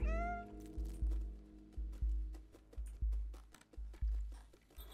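A cat meows in the video game Stray, one rising meow at the start followed by a rhythmic series of thumping beats, roughly one per second, with scattered clicks over a low background.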